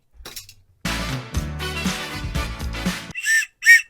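A burst of loud, busy noise gives way to two short, shrill whistle blasts at the end.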